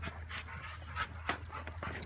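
An American Staffordshire bully dog pants close by in steady quick breaths, with a few soft whimpers and breathy bursts over low background hum.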